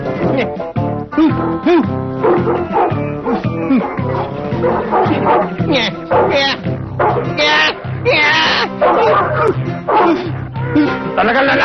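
A dog barks loudly and repeatedly in close, uneven bursts, with some whimpering yips, while a person talks over and between the barks.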